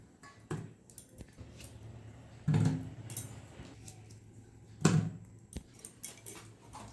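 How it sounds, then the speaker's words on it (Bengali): Boiled potatoes being cut in half with a knife in a kitchen, giving a few soft, scattered thuds and taps against a board at irregular intervals over faint background noise. "আলুগুলো এবার বড়গুলো আমি দুভাগ করে কেটে নেব"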